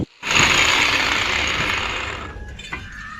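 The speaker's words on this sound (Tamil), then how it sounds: "அடுத்ததாக பார்த்தீங்கன்னா 2 இன்ச் ஸ்கொயர் டியூப் பார்த்தீங்கன்னா ஒரு அடி கட் பண்ணி எடுத்துக்கிறேன்" A one-foot length of 2-inch square steel tube is cut for an ATV build, a loud close grinding whine that starts abruptly, holds steady, then slowly fades with a small clunk near the end.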